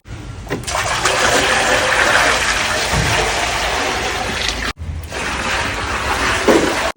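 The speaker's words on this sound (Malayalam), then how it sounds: "ഉരുളിയിൽ നിറയെ വെളിച്ചെണ്ണ ആയി തുടങ്ങിയിട്ടുണ്ട്" Loud, steady rush of coconut oil from a copra mill pouring into a large uruli vessel, broken by a brief pause before the heavy gushing resumes.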